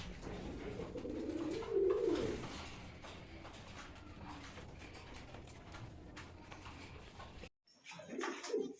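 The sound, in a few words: pigeons cooing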